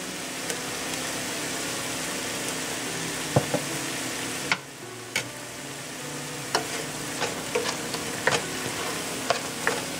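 Ginger and garlic paste frying in a pan for an Indian-style spicy tofu dish, a steady close sizzle with scattered sharp clicks and scrapes of stirring throughout, no voices.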